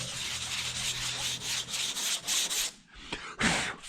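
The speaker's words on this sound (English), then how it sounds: "I'm sanding the paint off of it" Steady back-and-forth scratchy rasping of sandpaper on a block, sanding paint off a wooden board, close and loud, with a brief pause and a couple of final strokes.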